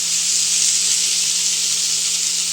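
Smashed paneer frying with masala in a pan for paneer bhurji gives off a loud, constant hiss that stays even and unbroken throughout, with no voices.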